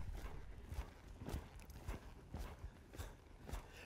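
Horse hooves striking ground in a slow lope during a reverse-arc training session, a steady rhythmic series of muffled thuds repeating about every half second, close by and fairly quiet with no talking.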